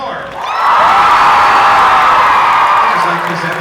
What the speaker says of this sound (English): Round of applause for Thor.